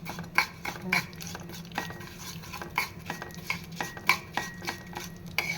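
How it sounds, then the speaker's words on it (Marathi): Sesame seeds and poppy seeds roasting in a spoonful of ghee in a pan over a low flame, stirred with a spoon in steady scraping strokes punctuated by metallic clinks over a faint sizzle. "आता मी दोन्ही एकत्रच घालणार आहे, तीळ आणि खसखस"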